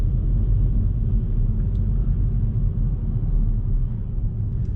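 A new 2021 Kia Stonic 1.0 T-GDI 120 hp mild hybrid with seven-speed DCT, GT Line, in sport mode: a steady, loud low engine rumble and drone heard from inside the car, with no talking.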